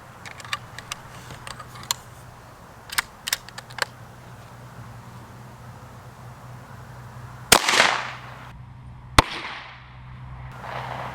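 A Marlin 17V rifle chambered in 17 HMR fires a 17-grain CCI V-Max round at a Kevlar helmet. A few light ticks come first, then one sharp, loud crack with a brief rushing tail and a second, smaller snap.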